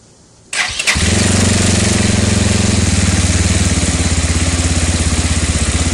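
A motorcycle engine cranks and catches after a brief quiet lead-in, then settles into a loud, steady idle with an even pulsing throb close by, with no talk over it.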